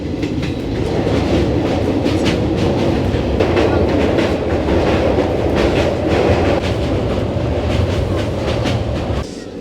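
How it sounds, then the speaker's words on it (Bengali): A crowded passenger train pulls out of Naihati station, its loud, steady rumble and rhythmic wheel clatter running close and unbroken before dropping off abruptly at the end. "ট্রেনটা কিন্তু নৈহাটি থেকে এই যে ছাড়ছে।"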